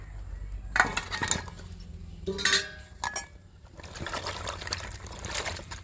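Large fresh eggplants being rinsed under water in a home kitchen: short splashing and trickling bursts with light clinks of a vessel, fairly quiet and close, with no talking.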